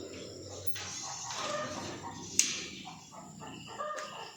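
Chickens on a small farm give faint clucks and a brief crow under ambient noise, with a person speaking nearby.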